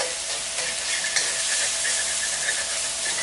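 Ginger and garlic fry in hot oil for a Kerala-style egg curry, a close, steady sizzle with a bright hiss and faint stirring scrapes, no voices over it.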